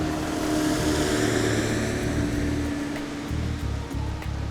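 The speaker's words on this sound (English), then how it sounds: "The boat sets off at full speed to the rescue." A fast rescue boat races at full speed through rain and rough waves, its steady engine drone mixing with loud rushing water and splashing throughout.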